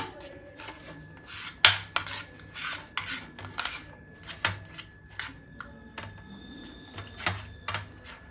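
Butter and garlic being mixed together in a bowl for homemade garlic bread, giving a series of close scraping, rasping and tapping strokes in an uneven rhythm, with no voices.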